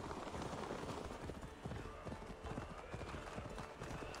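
Horse hooves clip-clop in a steady walking rhythm at moderate distance in Assassin's Creed Valhalla, with faint voices and ambient game sounds underneath.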